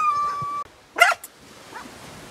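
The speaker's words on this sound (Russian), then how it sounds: "Хорошая, хорошая собачка." A chained dog guards a slum on the Azov Sea coast near Taganrog. After a steady hum it gives one sharp, close bark, followed by a fainter short yip, with no voices.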